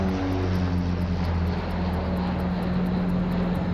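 Propeller engines of a United Express commuter airliner, Flight 6291, drone steadily and loudly from inside on final approach, with a constant low hum and no talking.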